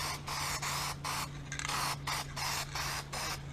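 Aerosol spray paint hisses onto car exhaust headers for a second wet coat, in about eight steady bursts of roughly a third of a second each, close and fairly loud over a low constant hum.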